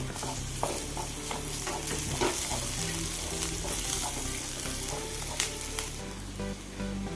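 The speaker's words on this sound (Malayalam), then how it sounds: "നമുക്കൊന്ന് ഇളക്കി കൊടുക്കാം ഉള്ളിയൊന്ന് വാടി വന്ന് ഇനി നമുക്ക് ഇഞ്ചി അരിഞ്ഞതും വെളുത്തുള്ളിയും കൂടി ചേർത്ത് കൊടുക്കാം" Onion, ginger and garlic fry in a pan for egg curry while being stirred, a loud, close sizzle overlaid with repeated scraping and clinking of the spoon against the pan, no talking.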